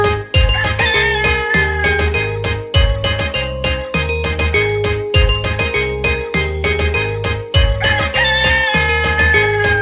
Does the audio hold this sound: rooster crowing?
yes